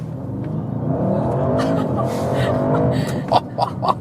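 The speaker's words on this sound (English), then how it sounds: "One more acceleration in the RS mode." An Audi RS7 Performance V8 accelerates hard in RS mode, its engine note rising in a steady climbing roar heard from inside the car, with a few quick shift blips and faint breaths near the end.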